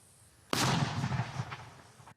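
A single loud mortar shot booms close by, its sharp blast followed by a rolling echo that fades over about a second and a half.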